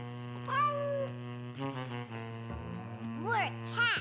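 Children's voices mimic cat meows, with a couple of rising and falling mewing calls standing out over a steady background tone.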